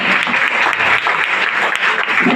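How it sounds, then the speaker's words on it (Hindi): Audience at a network marketing seminar applauds, a loud, sustained patter of many hands clapping evenly throughout. "ताली मारिए सर के लिए एक बार"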